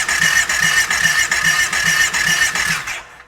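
A side-by-side's engine with decompression cams cranks over during a compression test on the rear cylinder, giving about seven even, rhythmic chugging pulses with a whirring starter before it cuts off abruptly.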